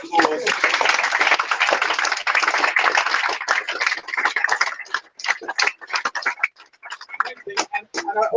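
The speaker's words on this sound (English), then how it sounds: "Let's give all of yourselves another round of applause" A small audience at a hackathon presentation claps enthusiastically, dense at first, then thinning to scattered individual claps toward the end.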